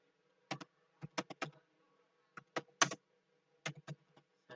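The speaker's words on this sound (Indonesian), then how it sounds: "kita ketik soalnya di bagian ini" Keys tapped on a computer keyboard while typing out a question, quiet clusters of crisp clicks in short irregular bursts with pauses between, close and alone.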